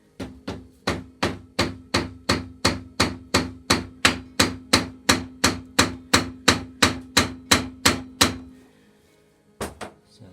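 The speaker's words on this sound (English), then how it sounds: "Let's see if we can give that a bit of a tap." About twenty sharp, evenly spaced hammer taps ring out on the front wheel spindle of a Yamaha Fazer FZS600 motorcycle. They are close and metallic, then pause, and two more blows follow.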